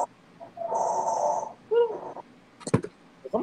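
A sleepy snoring or yawning sound effect played during a live stream, a single drawn-out snore-like breath followed by a short snort, fairly close and clear.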